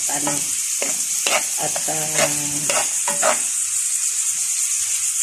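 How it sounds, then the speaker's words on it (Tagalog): Onion and garlic frying in butter in a pan, a steady sizzle with scraping stir strokes, close and fairly loud, with no voices. "Hintayin natin mag-brown ang sibuyas at"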